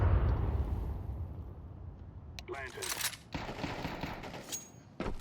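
Counter-Strike 2 gameplay gunfire, a few quick sharp bursts of shots in the latter half over low background rumble, faint and mixed with game sounds.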